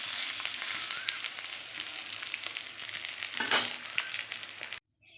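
Fish fries in oil for a fish curry, a steady close crackling sizzle with occasional spatters and a scrape, no voices, ending abruptly.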